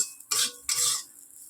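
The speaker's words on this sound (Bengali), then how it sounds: "আর এই যে গাজর ভাজছি" Carrots fry and get stirred in a pan for a Bengali home-cooked meal, giving two short bursts of bright hissing sizzle with faint scraping and no talking.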